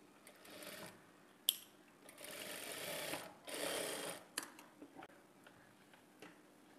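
A domestic sewing machine stitches a dart on a blouse front, running in a few short bursts of fast whirring needle chatter with soft ticks and handling clicks between them, close and clear with no talk.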